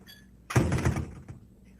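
A door swings shut with one solid, fairly close thump, followed by a short rattle and then near silence.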